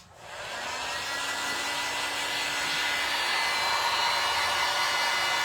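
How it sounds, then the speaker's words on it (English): A heat gun blows over salvaged wood to dry milk paint, starting with a click and then a steady, loud, close-up whooshing roar with a faint motor whine that holds throughout. "So we're gonna come in with our heat gun."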